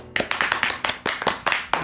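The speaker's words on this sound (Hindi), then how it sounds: "ताली बजाओ।" A crowd of listeners claps in quick, sharp bursts at close range, with about nine distinct strokes in a steady rhythm and no talking.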